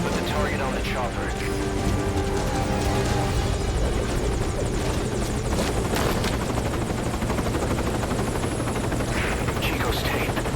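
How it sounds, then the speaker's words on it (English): A helicopter in the Metal Gear Solid V: Ground Zeroes video game, its rotor thudding loud and close in a continuous chop, with game voices and other sounds layered over it. "Put the target on the chopper."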